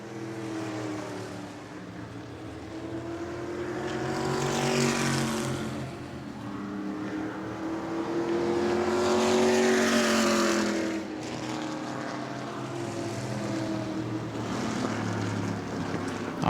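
Race cars roar around a speedway oval on the final laps of a family fun night event at New Smyrna, a sustained engine drone rising and falling as cars sweep past, loud and continuous with no talk.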